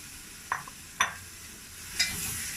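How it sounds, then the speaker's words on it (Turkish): Mushrooms sautéing in a pan for a quick mushroom soup: a soft steady sizzle broken by three sharp scrapes or clinks of stirring, close and without talk. "Biraz mantarlarımızı kavuralım."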